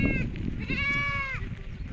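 A goat lets out a couple of quavering bleats, fairly close, over a low murmur of background noise.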